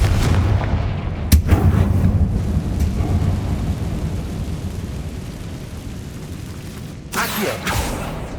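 A Confringo blasting spell from the Hogwarts Legacy video game goes off as a loud, deep explosive boom with a sharp crack, rumbling on for several seconds before a second burst near the end, with no talking.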